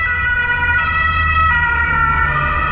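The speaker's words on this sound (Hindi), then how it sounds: "ये थोड़ी सी सायरन बड़ा इरिटेटिंग लगता है मुझे" An emergency siren wails steadily and loudly from a street in Germany, close by, over low traffic rumble and without any speech.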